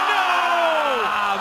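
A crowd at the 2015 SLS Los Angeles skateboarding finals lets out a loud collective groan and yell for about a second and a half, voices merging into one sustained swell.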